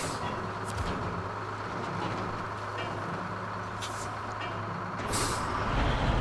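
Truck engine drones steadily in the SnowRunner video game, joined by sharp hissing bursts of air brakes, with a louder release near the end; no one speaks.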